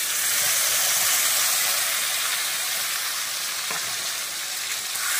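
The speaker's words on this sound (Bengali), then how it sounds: "এটাকে এখন আমি খুব ভালো করে কষিয়ে নেব" A ground paste of ginger, onion, garlic, tomato and chilli with cumin and coriander powder sautéing in hot oil, making a loud, bright continuous sizzle and hiss close up, with a faint stir or two and no talk.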